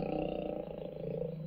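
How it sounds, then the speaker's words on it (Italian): A lion's deep, drawn-out roar rumbles steadily and fairly loud, with no other sounds around it. "Ah, non è un gatto, è un leone."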